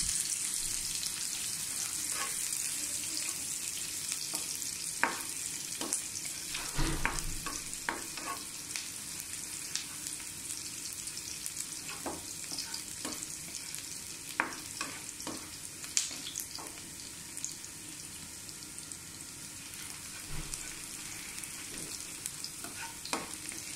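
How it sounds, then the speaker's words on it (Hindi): Chopped onions fry in a pan for dal gosht, giving a steady, dense sizzle with scattered pops and crackles and occasional soft stirring scrapes throughout, with no voices. "जैसे फ्राई होती है प्याज"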